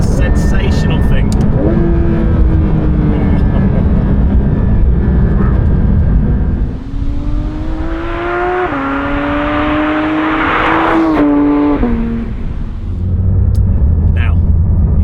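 A Porsche 992 GT3 RS engine revs hard and climbs through its gears with rising, wailing pitch, loud from inside the car, then falls back to a lower rumble near the end.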